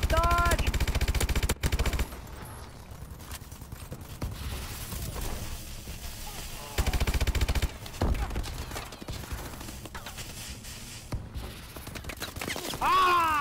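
Automatic gunfire in a Call of Duty match, heavy bursts at the start and again around the middle, with softer scattered shots between and a voice shouting over parts of the action.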